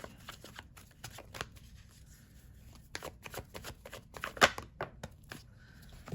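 Tarot cards riffle and slap in a series of crisp, close shuffles with irregular bursts, a few sharper snaps standing out, and no voice over them.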